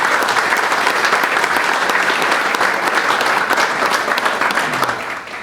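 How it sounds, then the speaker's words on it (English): A crowd at a county high school football preview night gives sponsors a round of applause, loud sustained clapping from many hands that thins out and fades in the final moment. "If we could give our sponsors a round of applause,"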